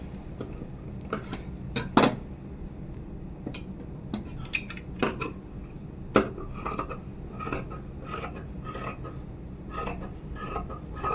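Scissors cut through blouse fabric in a series of crisp, close snips and rasping slides, irregularly spaced with occasional louder clicks against a quiet background.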